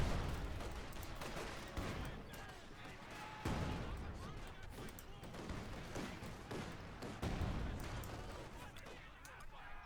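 A divisional field gun bombards in the video game Company of Heroes 2, its repeated heavy booms and thuds landing at irregular intervals amid battle noise, under continuous commentary.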